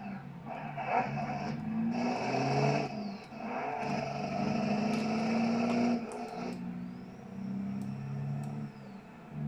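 A bus engine in the driving game BeamNG.drive, a steady low drone with rising and falling revs as the gears shift, heard alone and close without talk.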